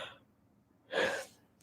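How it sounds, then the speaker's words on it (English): A person gives a single short, breathy yawn, heard up close in a quiet room. "I always yawn"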